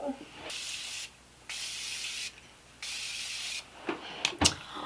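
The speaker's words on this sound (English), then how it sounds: "So I'm just going to go in with setting spray" Three long hissing bursts of makeup setting spray, each lasting about a second with short pauses between, close up, then a few soft taps.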